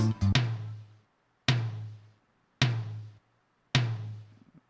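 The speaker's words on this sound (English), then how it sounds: "And then we have the toms giving that off beat," Four resonant tom hits in an off-beat soca pattern, the first a quick flam-like cluster, then single strikes spaced about a second apart, each ringing out and decaying alone.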